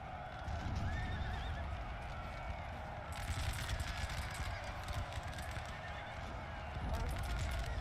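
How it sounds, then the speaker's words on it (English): Cavalry lancers' horses in the Napoleon Total War strategy game, a dense continuous rumble of galloping hooves and battle noise with occasional neighing mixed in, steady and loud throughout. "These are lancers, so they are swift horses."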